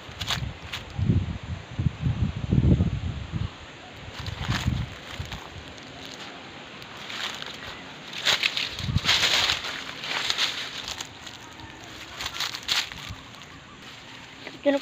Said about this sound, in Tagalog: Mahalakas po ng hangin ngayon.